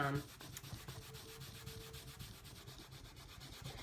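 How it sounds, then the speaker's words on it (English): Cloth wiping sprayed cleaner off a board, a steady soft rubbing that carries on close by and alone for several seconds. "I really probably didn't need to wipe all this off, but I'm just going to because I just sprayed it"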